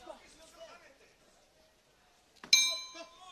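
A boxing ring bell rings to end a round at an IBA World Championships 2025 bout, a single bright, ringing strike that lingers and fades after a stretch of murmured commentary and crowd noise.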